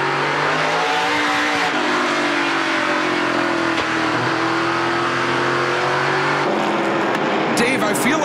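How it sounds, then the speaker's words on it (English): NASCAR Pinty's Series race cars run bumper to bumper, a loud continuous engine roar with shifting pitch as they pass, under steady commentary talk. "bumper to bumper as the 322 racing cars line up nose to tail"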